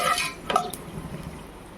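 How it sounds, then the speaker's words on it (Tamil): Fennel, cardamom, cloves and cashews stirred as they fry in a pan for veg biryani, with a few quick scraping strokes of a spoon early on followed by a soft, steady sizzle. "நம்ம கிண்டி விட்டுக்கணும்."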